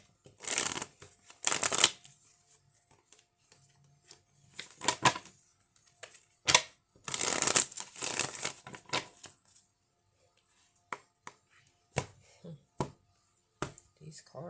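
A deck of playing cards is shuffled in bursts of riffling and shuffling, then a series of sharp, separate card snaps and taps near the end, close and clear with no talking.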